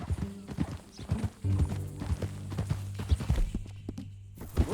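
Horse hooves clip-clopping at a walk in the video game Red Dead Redemption 2, close and distinct in an uneven rhythm, with low tonal game sound underneath and a soft snort.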